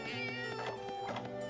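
A cat character in a Monster Hunter-style game meows, a few short strained meow calls over a continuous layer of game music.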